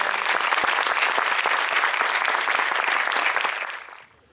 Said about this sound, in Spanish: Recibamos con un gran aplauso y con mucho orgullo